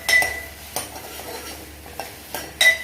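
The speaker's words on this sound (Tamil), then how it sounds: "தக்காளி நல்லா மேஷ் ஆகி குக் ஆகிற வரைக்கும் இதை வதக்கிக்க போகிறோம்." Tomatoes being sautéed in a pan for lemon rasam, with a utensil stirring and scraping in a few distinct clinking strokes at an unsteady pace, close and fairly loud, with no one speaking.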